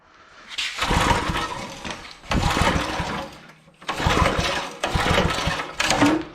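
A Master-Till tiller's small engine is cranked over repeatedly, each pull bringing a loud, rough burst of mechanical clatter that fades, four attempts separated by short pauses.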